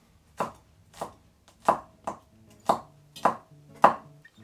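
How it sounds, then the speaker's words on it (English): Garlic cloves are chopped finely with a knife on a board: seven or eight crisp, close knocks at an irregular, unhurried pace against a quiet background. "Couple of cloves of garlic. I'll chop them finely."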